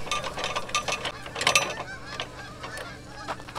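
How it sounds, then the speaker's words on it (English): Jack handle cranked on a Norwood HD36 sawmill center jack support, giving a run of close, irregular ratcheting clicks and squeaky metallic creaks that bunch together and then thin out. "We'll take the jack handle and turn it in as far as it will go."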